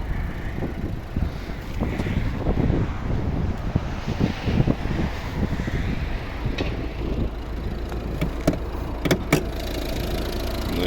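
A Volvo V50 2011 1.6 D2 diesel engine idles with a low, steady rumble, heard close, with some wind buffeting and a few sharp clicks and knocks.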